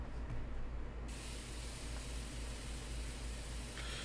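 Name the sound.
shower running, sound effect from a video game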